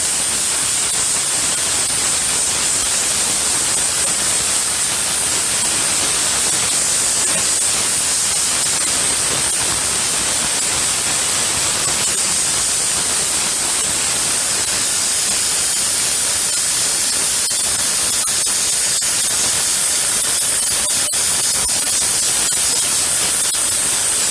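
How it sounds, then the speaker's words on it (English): A spray gun coats a tumbler cup with a steady, loud, unbroken hiss that runs evenly throughout with no pauses. "I'm not sure why it's spraying very slowly."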